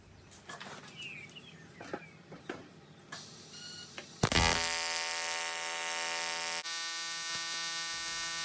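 A TIG welder joins aluminium box section with a backstep motion and no filler wire, its arc starting abruptly into a loud, steady electrical buzz that drops slightly in level partway through, following faint handling clicks.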